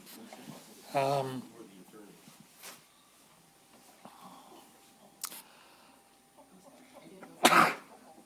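A single sharp sneeze bursts out near the end, with an earlier throaty cough-like noise and soft room murmur around it, at a city council meeting.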